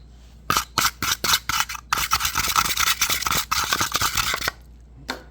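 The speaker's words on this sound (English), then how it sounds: "So I use the brushes to brush off the screen." Stiff brushes scrub sawdust off the filter screen of a Ryobi desktop vacuum, giving a run of quick, close, raspy scraping strokes, several separate bursts and then a longer continuous scrubbing, with no talking.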